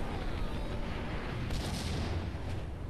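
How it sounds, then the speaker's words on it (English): Grenade blast in Max Payne, a dense, sustained rumbling roar that stays loud throughout with a brief brighter burst midway. "Oh God, that's a grenade!"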